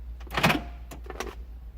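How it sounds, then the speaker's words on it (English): A BMW door lock actuator cycles, giving two quick mechanical clunks, a lock and an unlock, close and clear against a low background hum. "See that actuator unlocks and locks properly."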